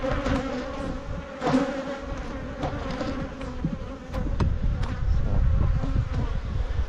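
Honeybees swarm around an open nuc hive in a mountain bee yard, a dense, steady buzz close to the ear with individual bees zipping past.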